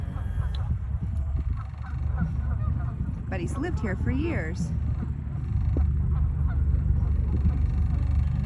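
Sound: Canada geese honking by river

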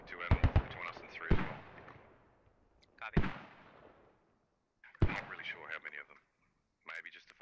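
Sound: mortar rounds landing in the video game Squad

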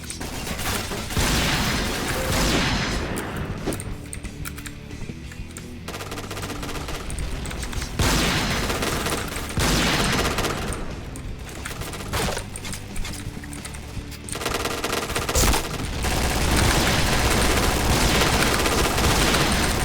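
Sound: gunfire from a shooting video game

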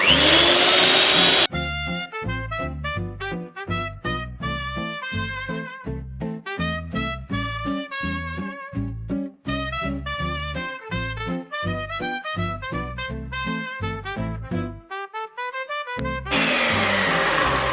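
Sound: electric hand mixer whipping cream

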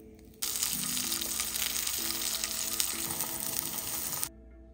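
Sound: onion frying in Wagyu beef fat

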